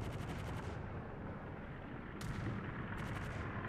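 Naval artillery fire in World of Warships with HMS Nelson: a dense, continuous rumbling barrage of gunfire that stays loud throughout, with sharper crackling reports standing out near the start and again around the middle and end.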